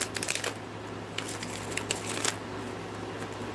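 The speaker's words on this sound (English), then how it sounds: "I'm going to do 2 more of these shuffles" Rider Waite tarot cards shuffled by hand with butterfly-style shuffles, crisp rapid riffling bursts and clicks up close, bunched at the start and again mid-way, then softer rustling, with no voices.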